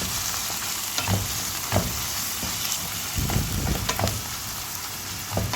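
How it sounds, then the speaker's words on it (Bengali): Chopped onion and cumin seeds frying in a pan, crackling sizzle close up with repeated clattering stirs of a spatula, no talking. "এখানে আমি দিয়ে দিলাম পেঁয়াজ কুচি আর একটু কী বলে এটাকে জিরে দিয়ে দিলাম ঠিক আছে দিয়ে একটু ফ্রাই করে নিতে হবে"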